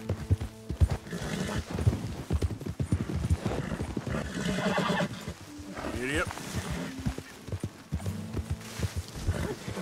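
Horse hooves clip-clop in a rapid galloping rhythm with several loud whinnies and neighs in the video game Red Dead Redemption 2, close and prominent, with game voices and other sounds mixed in.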